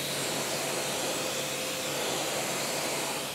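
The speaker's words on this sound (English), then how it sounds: "we're going to rinse the tire down just to see if there's anything loose that we can remove" A steady, broad hiss of pressurised water spraying onto a car tire for a rinse, constant and fairly close, with no voices over it.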